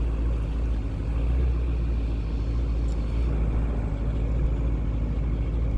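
A Camaro and a Ford F-250 pickup run a no-prep drag race at a dragstrip, heard as a steady, heavy engine rumble with road roar that holds at a constant level throughout.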